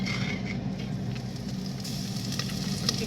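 Garlic and basil pesto sizzle in hot oil in a pan, a steady crackling hiss with faint pops, close and continuous with no talking.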